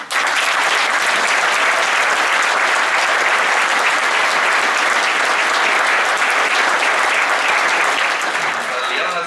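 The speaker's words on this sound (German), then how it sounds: "das ist ein Applaus wert" Sustained, loud applause from a concert audience at a brass band club concert honoring a trumpet player's award, dense even clapping filling the hall without a break.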